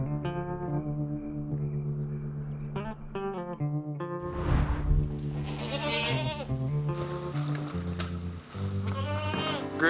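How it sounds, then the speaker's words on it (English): Several goats bleat in a barn at an off-grid log cabin build, their wavering calls overlapping loudly and almost continuously, near and at varied pitches. "sleeping in the barn again with goats on the floor"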